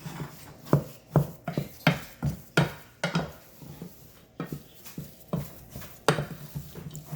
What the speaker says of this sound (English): So you want to mix the psyllium husk so it blends very well with your vegetable